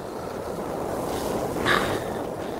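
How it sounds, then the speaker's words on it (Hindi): Strong, cold wind in an icy outdoor setting, a steady broadband roar buffeting the microphone with a brief gust swelling near the end. "इतनी तेज हवा।"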